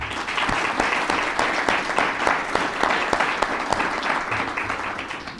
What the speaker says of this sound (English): Mark clapped, but I'm sure his wife would not have.